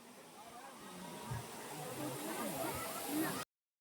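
Water pouring down the Motijharna waterfall makes a faint, steady hiss of rushing spray that builds slightly over a few seconds, with a low voice murmuring beneath it, before cutting off abruptly into silence.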